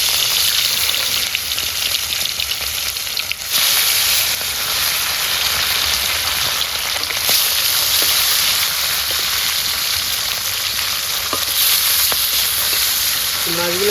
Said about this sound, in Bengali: আমাদের তেলটা গরম হয়ে গেছে, এখন মাছগুলো দিয়ে দেবো